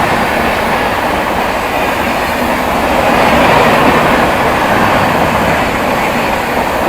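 The North East Express passes at a railway crossing in a loud, unbroken rumble of wheels and carriages with a faint clickety-clack running through it.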